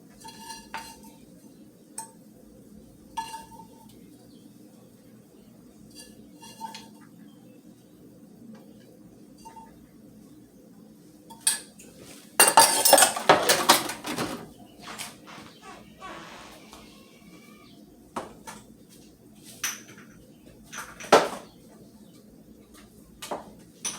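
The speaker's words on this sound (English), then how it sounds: "So I'm going to plate my shrimp." Cooked shrimp for a homemade shrimp and bacon rice bowl is plated in a quiet kitchen. Forks and spoons tap and clink against dishes, with one louder, busier scrape in the middle and scattered light taps around it.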